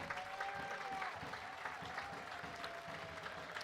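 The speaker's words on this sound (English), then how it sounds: "Crowd giving the players a nice hand." Crowd applauding players at halftime of a Stockade FC home soccer match against Seacoast United Mariners, a continuous wash of clapping at moderate distance, with faint tonal sounds and some voices mixed in.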